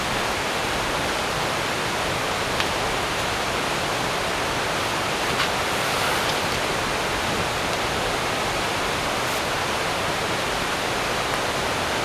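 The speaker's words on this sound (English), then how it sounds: "As you can hear, we have a river right beside us." A river runs right beside a forest wilderness campsite, a steady, loud broadband rush of flowing water that fills the whole stretch without pause and has no voices over it.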